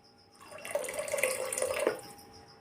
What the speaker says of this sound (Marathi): तर इथे पाणी घालत आहे मी